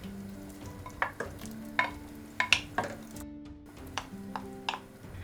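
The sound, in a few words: adding onions and mushrooms to stew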